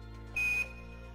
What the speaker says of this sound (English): this incessant beep